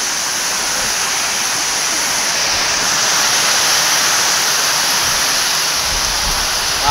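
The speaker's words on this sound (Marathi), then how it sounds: "नंदूर गावात वादळी वाऱ्याचा पाऊस" Heavy rain driven by stormy wind in Nandur village, a steady, dense roar of rushing noise that holds evenly throughout with no voices over it.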